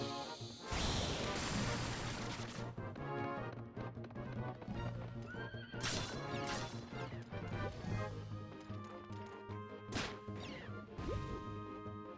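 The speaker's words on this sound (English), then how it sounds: "if you try to like run fast into walls, the horse will flip out" Horse hooves clatter and thud amid crashes as the horse runs into walls and flips out, a brief whinny, layered with Suikoden III game music and effects throughout.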